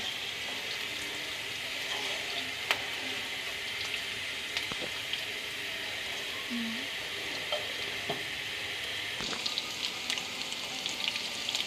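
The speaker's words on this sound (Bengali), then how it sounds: "এই চুলা আমি আলুটা আবার একটু নেড়ে দিতেছি।" Potatoes with onion and green chili sizzle in a pan on the stove, a steady soft hiss broken by occasional clinks and scrapes as a utensil stirs them.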